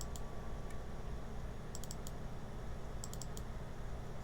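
Several crisp mouse clicks in small clusters, including quick double clicks, sound close over a steady low background hum at a computer while 3D modelling a Warhammer 40k Imperial Knight upper leg.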